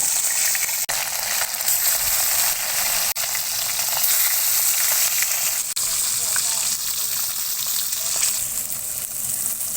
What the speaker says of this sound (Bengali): তেল গরম হয়ে গেছে, এখন আমি এক একে মাছগুলা দিয়ে দিব।